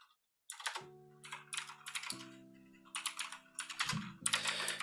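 Typing on a computer keyboard to write notes, with rapid clicky bursts of keystrokes in quick clusters separated by short pauses, close and fairly loud over a low steady hum.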